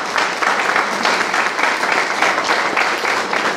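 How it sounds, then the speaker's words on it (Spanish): Steady applause from an audience at an informational meeting on forming a disability commission, a dense, even patter of many hands sustained throughout at moderate loudness. "y le pido un fuerte aplauso para ella."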